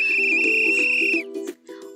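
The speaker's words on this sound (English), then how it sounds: "he blows his whistle" A policeman's whistle blows one long, loud, steady shrill blast, then cuts off into a brief quieter tail.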